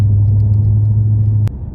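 A 2000 Mercedes CL500 drives along with a steady, loud low engine drone and road rumble, running evenly before a brief knock near the end.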